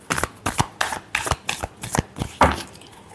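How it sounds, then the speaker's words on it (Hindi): Tarot cards riffle in a quick run of about ten crisp, papery bursts spaced roughly evenly, close and fairly loud with no voices. "last shuffle"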